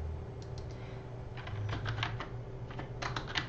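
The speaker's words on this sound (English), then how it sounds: "Now I can type in mean" Typing on a computer keyboard while entering a formula into a spreadsheet: a short run of light, close key clicks in an uneven rhythm over a quiet room hum.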